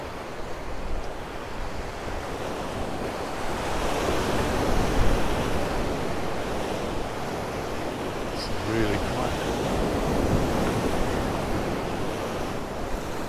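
Rough waves pound the shoreline at Ciudad Jardín in Palma de Mallorca, a broad unbroken wash of surf with wind noise and a brief faint voice partway through.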